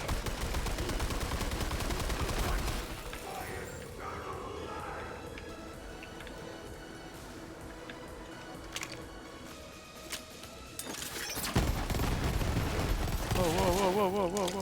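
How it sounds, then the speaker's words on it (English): Borderlands 3 combat erupts with rapid gunfire and bursting explosions, loud dense volleys at the start, a quieter stretch of scattered shots and clicks in the middle, then heavy firing again, with voices talking over it. "There's a whole bunch of explosions going off."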